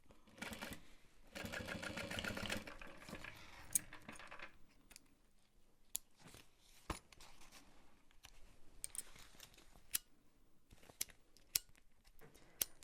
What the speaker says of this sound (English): So I'm gonna sew it from this direction, just right here.